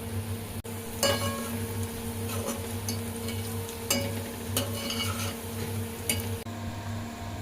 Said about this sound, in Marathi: कांदा गुळधर रंगावर येऊपर्यंत परतूया